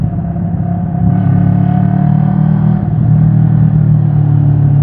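A car engine runs steadily at elevated RPM with a loud, continuous low drone and rumble, the pitch rising slightly after about a second and holding; no one talks.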